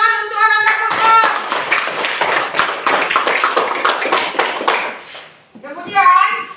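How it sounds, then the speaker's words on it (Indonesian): A classroom of children claps together for a classmate, a run of brisk, fairly loud claps lasting several seconds. Children's voices are heard before and after it. "tepuk tangan untuk Ananda Purkon"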